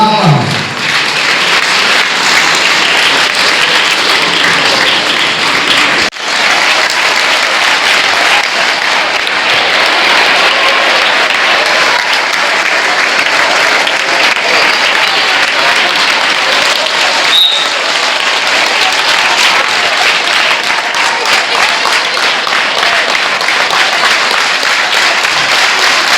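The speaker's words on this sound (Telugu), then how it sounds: "పెద్దల మధ్య చిన్నపిల్లల అంటే బాలల యొక్క చప్పట్ల మధ్య ఆవిష్కృతం కావడం చాలా గొప్ప విషయము" Children applaud at a book launch, a loud, dense, sustained round of clapping from a crowd that carries on without a break for nearly half a minute.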